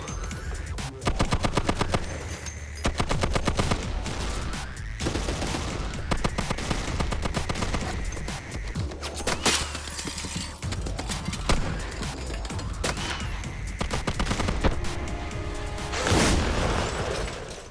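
Sustained bursts of M2 heavy machine gun fire aimed at the steel body of a target vehicle outdoors, loud and close, with rapid repeated shots and brief pauses over nearly eighteen seconds.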